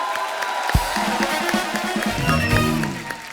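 Studio audience on The Kapil Sharma Show bursts into applause and cheering, a dense crowd roar with clapping that starts abruptly and carries steadily under background music.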